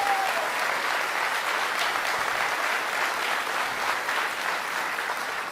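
Steady applause from a crowd, continuous clapping at an even level throughout with no pauses.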